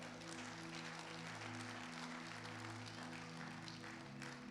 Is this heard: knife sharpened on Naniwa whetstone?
no